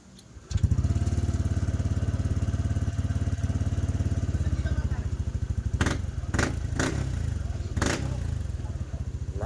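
A Yamaha NMAX V2 scooter engine, freshly tuned with throttle body and CVT cleaning, starts up and settles into a close, loud, steady putter, with a few brief louder thumps and rattles over the running engine.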